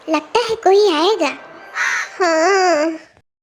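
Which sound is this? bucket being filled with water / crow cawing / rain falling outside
crow cawing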